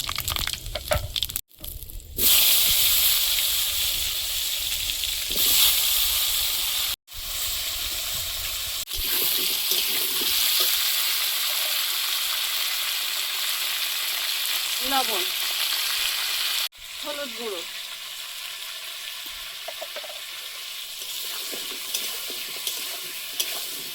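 Whole spices tempering in hot oil in a cooking pan, with chopped onion, garlic and green chillies going in: a continuous loud sizzle interrupted by sudden additions and scraping stirs.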